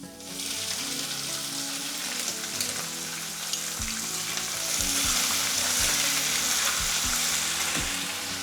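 Urad dal and green chillies fry in hot oil in a pan, giving a continuous crackling sizzle. Occasional stirring knocks sound against the pan, with no speech.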